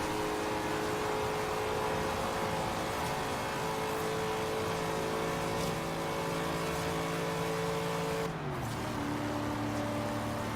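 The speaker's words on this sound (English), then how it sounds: "My revs dropped like a rock on that one in 6th gear." A Corvette Z06 in Forza Horizon 3 drones loudly at high revs in 6th gear, then its engine note drops abruptly and settles lower near the end, with no talk over it.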